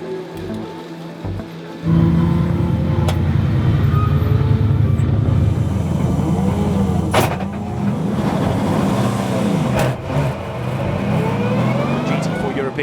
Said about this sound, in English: The cars come up now towards the timing line.